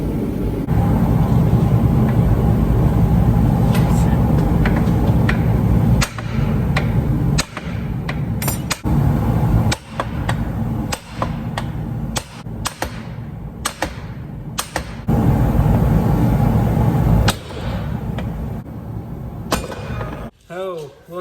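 Repeated sharp metallic thuds from a hammer striking a tightly stuck metal shaft on a farm, irregular and fairly loud over a steady rumbling background, with voices talking in between.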